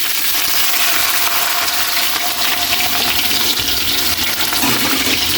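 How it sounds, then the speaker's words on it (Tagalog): Loud, steady hiss and sizzle of carrot and potato pieces frying in hot cooking oil, a continuous bubbling wash of sound with no talk. "Kaili, mainit na yung mantika natin. Lagyan na natin yung carrots at patatas."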